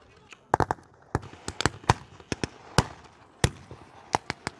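Mortar fire at a battle reenactment of the Kaunas offensive, a rapid series of sharp, loud blasts and cracks scattered irregularly across the scene, with voices faintly underneath.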